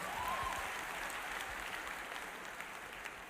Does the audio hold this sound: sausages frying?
no